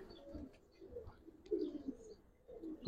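A Giribaz pigeon coos in short, soft bursts of a few low notes, fairly close, with faint chirps between and no voices.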